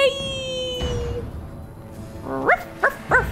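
A dog in the video game Dragon Age: Origins gives three short, fairly close barks or yips near the end, each one brief and sharp, after a stretch of game music and ambience.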